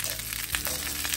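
Onion sizzling in olive oil in a pan, a quiet, continuous crackling fry with a few soft pops, heard alone.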